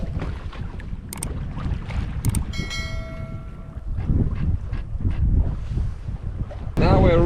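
Steady wind roars across the microphone aboard a sailboat in the Swedish archipelago, with low rushing water and boat noise, a brief tonal whine midway, and a louder gust at the end.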